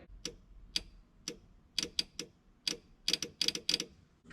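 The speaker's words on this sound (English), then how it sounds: "I can hear that relay for that switch panel clicking." A switch panel relay on a Ford Model A street rod clicks repeatedly, sharp dry clicks at irregular intervals, sometimes in quick pairs, fairly faint against a quiet background.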